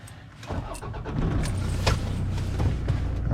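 A Toyota Land Cruiser KDJ120 diesel engine starting: a brief starter crank, then the engine catches and settles into a steady, close, moderately loud idle rumble.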